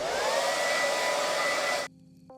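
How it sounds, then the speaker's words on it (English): A hair dryer in a video game blows with a loud, steady roar, then abruptly switches off, leaving a faint hum and a short tone. "have your hairdryer back"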